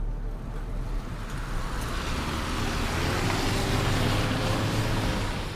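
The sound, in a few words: car driving on an expressway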